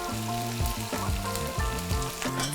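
Black bean paste frying in oil over medium-high heat for jjajangmyeon sauce, giving a steady close sizzle with stirring, while tonal background sounds run underneath.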